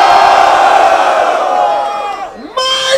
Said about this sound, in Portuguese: Barulho para as rimas de Yoga